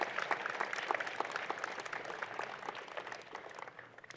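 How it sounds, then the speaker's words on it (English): Applause from the audience at a June 2017 university convocation afternoon ceremony at Trent University Peterborough, scattered hand claps blending into a steady, moderately distant patter that thins toward the end. "A round of applause for the pit crew."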